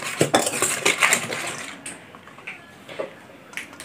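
A utensil scrapes and clinks against a bowl while spinach chip batter is stirred, a quick run of close, bright clatter at the start easing into sparser, softer taps and scrapes.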